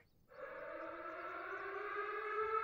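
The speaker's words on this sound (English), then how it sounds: "That is an air raid siren." An air raid siren in a cafe management video game rises from silence into a loud, sustained, steady wail that holds and swells slightly for a couple of seconds.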